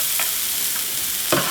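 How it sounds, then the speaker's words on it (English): Garlic and onions sauté in a pan for a chickpea vegan omelette, a soft continuous sizzle broken by a few brief scraping stirs, close by with no talking. "we're going to saute our garlic for a few seconds to bring out the aroma"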